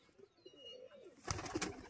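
Old-line Giribaz tumbler pigeons from Murshidabad coo softly at close range, then a louder burst of scuffling and fluttering rises near the end.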